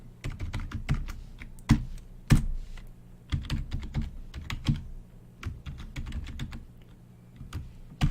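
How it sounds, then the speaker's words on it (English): Someone types on a computer keyboard during a basic LED coding lesson, with irregular clusters of close, crisp key clicks and occasional heavier thumps and short pauses. "I'm typing too fast, or actually I'm typing kind of slow."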